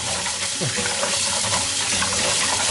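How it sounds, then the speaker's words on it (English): Fresh edamame pods washed under a running kitchen tap, a loud, steady rush of water splashing close by with brief rustles of the pods beneath it. "Before I cook this edamame, I have to wash this pod very well."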